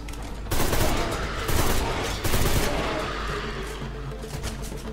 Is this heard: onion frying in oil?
no